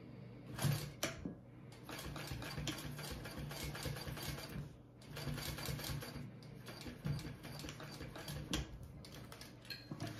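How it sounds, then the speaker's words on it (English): A sewing machine topstitches along a bag flap, its quiet needle chatter running in fast rhythmic bursts separated by brief pauses, close and alone. "I'm going to do another top stitch along this flap"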